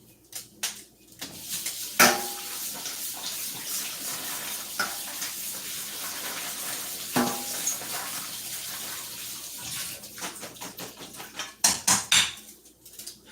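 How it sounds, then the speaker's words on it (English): Clipped green beans rinsed under running water in a kitchen, a steady hiss of flowing water with clinks of dishes and utensils and a few louder splashes and knocks, heard alone. "I'm going to rinse them off."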